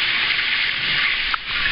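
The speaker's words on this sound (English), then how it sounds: "I'm being sprayed with jets." Water jets spraying onto hands at a handwashing station in a cruise ship's kids' lab, a steady close hiss that briefly breaks near the end.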